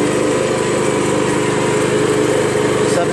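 Small engine of a Honda Harmony HRM215 self-propelled lawn mower running steadily at a low, even idle, close and loud throughout without a break.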